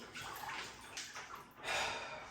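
Cold water running in a steady broadband hiss, likely a cold shower, with splashing surges that swell louder near the end; close and continuous, no talking.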